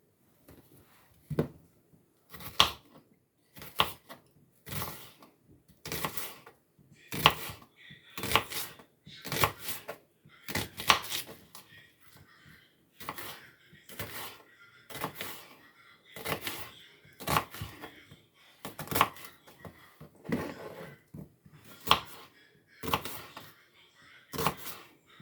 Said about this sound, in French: On va découper nos différents oignons.